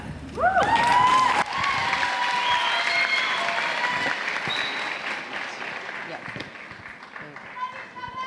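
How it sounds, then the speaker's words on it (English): Audience applause fills a pageant hall, loud and sustained, with a few whoops and cheers rising at the start before the clapping settles into a steady, slowly fading wash of crowd noise. "Another round of applause for our top 10 semifinalists."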